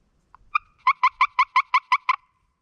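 A single rapid run of about eight bright, high-pitched turkey-call clucks, made with the striker squeezed to raise the pitch, evenly spaced and close, preceded by a couple of softer notes.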